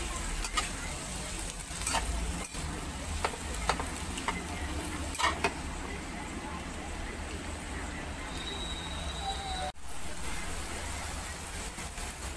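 Fried rice with meatloaf and kangkong being stirred in a pan: a steady, soft sizzle runs throughout, and occasional scrapes and taps of a utensil against the pan cut through it.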